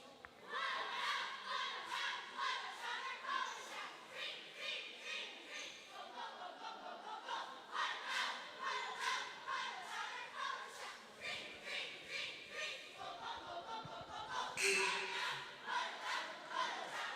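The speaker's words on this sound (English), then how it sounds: "We're going to go to the Roosevelt cheerleaders here for a little cheer for all the cheer family that's watching" Roosevelt High School cheerleaders chant a cheer at a boys basketball game against Chief Sealth, rhythmic group shouting with crowd noise throughout, steady and fairly loud, peaking near the end.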